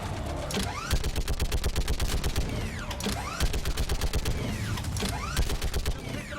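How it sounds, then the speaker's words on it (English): Rapid turret gunfire in the shooter Mass Effect 3, loud repeated automatic bursts with whirring mechanical sweeps between volleys, close and continuous. "Get on the goddamn turret."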